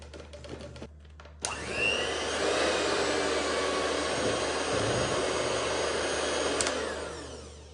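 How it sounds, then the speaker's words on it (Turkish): Electric hand mixer whisking chocolate cake batter with cocoa, a steady loud motor whine that starts abruptly after a brief quiet moment and runs continuously, then fades at the end. "Son olarak kakaoyu da ilave edip çok az sadece un karışana kadar çırpıyorum."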